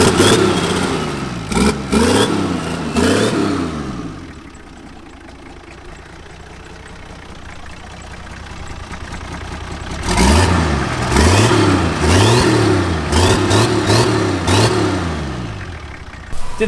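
Turbocharged Toyota LandCruiser 75 series engine breathing through a 3-inch straight-through dump exhaust, revving loudly in repeated bursts, dropping to a steady idle for several seconds, then revving hard again in a rhythmic series of blips.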